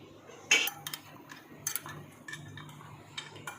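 A spoon clinks and scrapes against a bowl while boiled potato chaat with lemon juice, green chilli and coriander is stirred, giving a few sharp metallic taps and soft scraping, close and fairly quiet.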